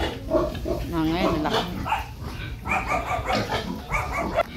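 Three-month-old pigs on a farm grunting and squealing in a pen, several bursts close by over the whole stretch, with a person talking among them.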